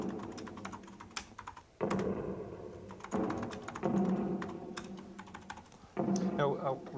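Rapid clicking of computer keyboard keys, steady bursts of typing with a few pauses, close by, under a low background hum and occasional voices, during a 1985 demonstration of Amiga and Atari computers.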